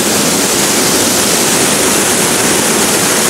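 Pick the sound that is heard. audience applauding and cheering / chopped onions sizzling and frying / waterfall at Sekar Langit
waterfall at Sekar Langit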